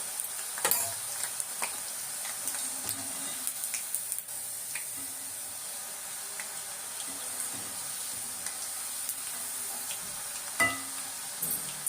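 Curry leaves frying in a hot pan, a soft continuous sizzle with scattered crackles and a few sharper pops over about twelve seconds, no voices.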